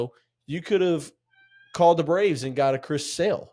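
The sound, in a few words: cat meowing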